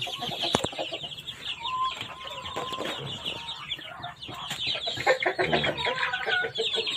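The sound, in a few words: chickens clucking in crowded coop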